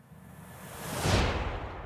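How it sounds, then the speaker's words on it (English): Steady broadband airflow roar filling the flight deck of a Flight Factor Boeing 757-200 in X-Plane 11, swelling gradually louder midway and holding as a continuous rushing hiss with no voices. "That loudness you're getting in the flight deck from that airflow is very realistic."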